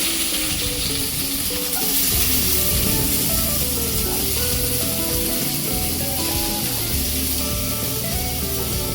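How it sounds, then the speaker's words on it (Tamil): Steady, dense sizzling of onions frying in hot oil for egg curry, loud and close, with occasional scraping and stirring noises throughout. "இந்த வெங்காயம் வந்து நல்லா வதங்குற அளவுக்கு நம்ம வந்து வதக்கிக்கிட்டே இருக்கணுங்க"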